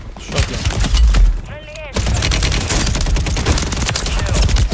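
Rapid, dense automatic gunfire from a Call of Duty match on Rebirth Island, loud and nearly continuous with a brief lull, while a player's voice speaks over the shooting.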